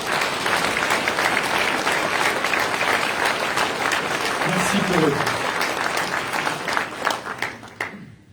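An audience at a New Year's greetings ceremony applauds the firefighters with sustained, dense clapping throughout, while a voice speaks briefly over it before the applause tapers off at the end.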